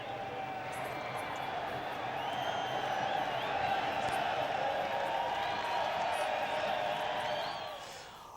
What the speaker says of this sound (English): You get some idea of the crowd.